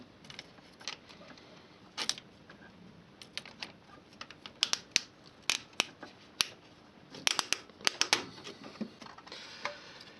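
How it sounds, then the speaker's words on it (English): Pliers work a hose clip off the thermostat of a Mini, producing sharp, close metallic clicks and snaps in irregular bursts with short pauses, alone with no talking. "Now we're going to remove the clip down here. The other side of the thermostat. Again, pair of pliers."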